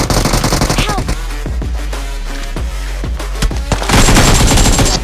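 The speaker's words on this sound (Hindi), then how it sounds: "M416 का फायर आ रहा था" M416 assault rifle fire in PUBG Mobile: several rapid automatic bursts crack loudly and close, with distinct repeated shots and heavier sustained gunfire toward the end.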